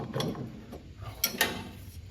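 O-ring pump fittings snugged down with a wrench, giving soft metallic ratcheting clicks and a couple of sharper clanks, close and fairly quiet over low workshop background.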